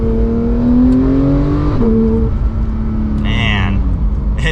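A 991.2 Porsche 911 GT3 engine revs hard, its pitch climbing steadily before dropping at a gear change, then building again, loud and close from inside the cabin.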